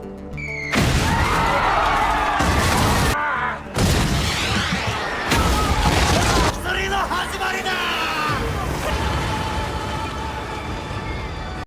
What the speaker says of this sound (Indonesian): Mendengar suara ledakan itu